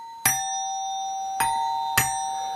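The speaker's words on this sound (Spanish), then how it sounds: "Empezamos por el timbre musical, también llamado din-don por el sonido que hace" A musical doorbell chimes with three bright metallic strikes, a ding followed by two closer-spaced dongs, each tone ringing on and fading slowly in a quiet room.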